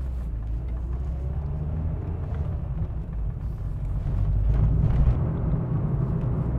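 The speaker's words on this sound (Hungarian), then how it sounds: "a külső zajok azok erőteljesebben jönnek be az utastérbe" Road noise entering the cabin of a 1995 Renault 19 1.4 while driving, a steady low rumble and tire roar that swells slightly toward the end, with no talking.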